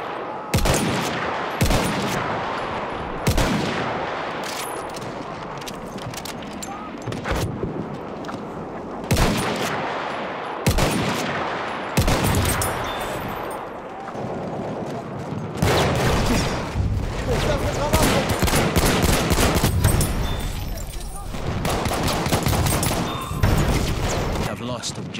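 Machine gun fire in the World War I shooter Battlefield 1, sharp loud bursts and rapid cracks recurring through a noisy chaotic battle, with a voice talking over parts of it.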